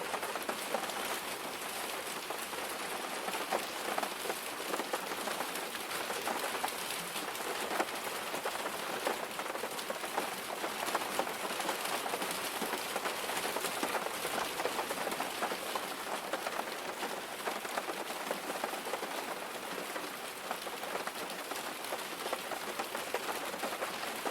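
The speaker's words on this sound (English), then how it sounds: "listen to the soothing sounds of the rain" Steady rain falling, a dense even hiss of drops on surfaces that continues unbroken and moderately soft for the whole span, with no voices.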